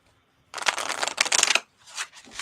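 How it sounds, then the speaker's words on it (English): A deck of cards being shuffled up close, a dense riffling burst lasting about a second followed by a shorter, softer second shuffle. "No, I heard just shuffling. Were you pulling some cards for her"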